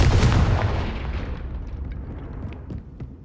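A Confringo spell blast in Hogwarts Legacy on PS5 during a haunted Hogsmeade quest, a loud booming explosion with a deep rumble that decays over a few seconds, followed by faint crackling debris.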